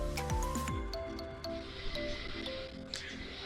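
Chicken biryani with masala being mixed by hand, wet squishing and squelching of rice and spices close up, continuous and soft with small sticky bursts, over faint kitchen background tones.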